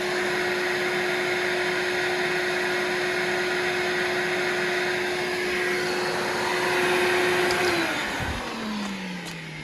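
A 750 watt Electrolux vacuum cleaner, powered from a portable battery station, runs with a steady loud whoosh and high motor whine, its tone dropping slightly near the end as the load shifts.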